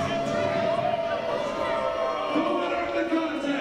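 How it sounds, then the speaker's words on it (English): A wrestling crowd at a CCW Chaos show voices its displeasure, a steady roar of booing and jeering filling the arena under continuous commentary. "The crowd is certainly not happy"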